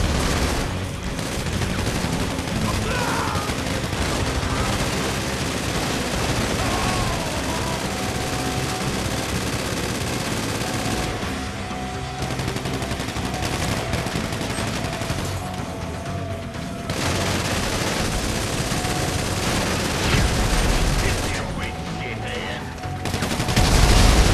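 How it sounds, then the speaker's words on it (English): Heavy gunfire in the video game GTA 5 Survival mode, with dense, near-continuous bursts and rapid shots sustained for over twenty seconds, broken by a few brief lulls. "taking heavy fire"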